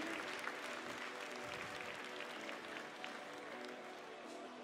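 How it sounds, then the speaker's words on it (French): An audience applauds at a Tarentaise cattle breed show, a dense, even wash of many people clapping that holds steady throughout, heard from a moderate distance at low volume. "Allez, vos applaudissements fournis."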